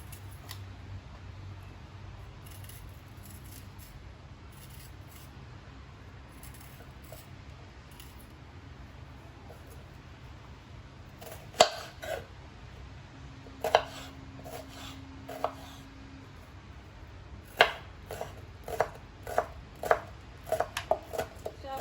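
Star fruit is chopped for pickle, with sharp knife strikes on a board starting sparsely and then quickening into irregular clusters, close and crisp over a quiet kitchen background.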